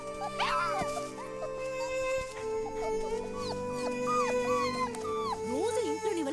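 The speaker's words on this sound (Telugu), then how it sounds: "కుక్క పిల్లమ్మా" A puppy whimpers and whines in repeated high, wavering cries, close and fairly loud, over a steady tonal background.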